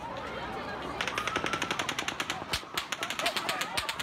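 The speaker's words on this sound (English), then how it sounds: "you heard like what I call like a volley of shots" A volley of rapid gunfire during the Las Vegas shooting, captured on a phone: a long burst of evenly spaced loud cracks, followed by a brief pause and more fast shots.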